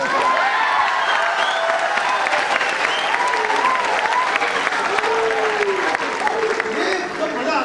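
A full house at a comedy show during a national blind cricket tournament breaks into loud, sustained applause, dense clapping with a few whoops and voices mixed in throughout.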